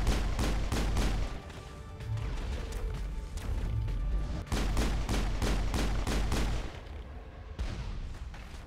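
Dense, continuous gunfire from the Mass Effect video game, with rapid bursts and booming impacts layered over a loud, busy battle mix that runs the whole time without pause.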